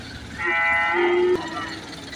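A single long cattle moo rings out at the Valliyoor cow market in Tirunelveli, loud and near, holding steady for about a second before cutting off, with crowd murmur from the market behind it.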